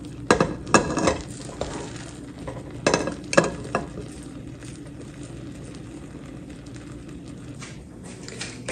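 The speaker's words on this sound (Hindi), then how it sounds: "अब हम इसे डिश आउट करते हैं।" A serving spoon scrapes and clinks against a pot while jaggery rice with chana dal is dished out, giving a cluster of sharp metallic knocks and scrapes early on, then quieter, sparser scraping.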